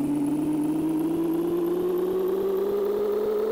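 A truck engine in the racing video game Big Rigs: Over the Road Racing revs with a smooth, steadily rising electronic whine and a faint even ticking beneath it, constant and fairly loud, with no voices.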